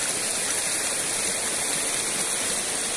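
A steady, close rush of flowing water, like a stream or river running over rocks, with no other sounds.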